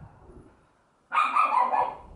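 Neighbor's dog outside on New Year's, one drawn-out loud bark that starts abruptly after near silence and carries on close by for about a second.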